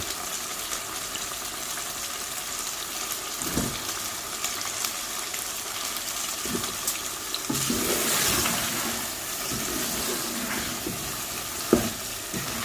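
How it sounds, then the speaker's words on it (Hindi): Potatoes and chickpeas fry in a pan, Pakistani home style, a steady hissing sizzle throughout with occasional stirring scrapes and clinks, close and moderately loud, no one speaking. "इनमें भी थोड़ी देर आलूओं को और चनों को भी भून लूंगी"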